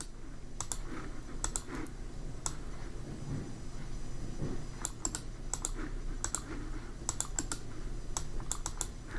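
A computer keyboard typed on to enter a WordPress username and password, with scattered bursts of crisp key clicks in short clusters over a faint steady hum, close and fairly quiet.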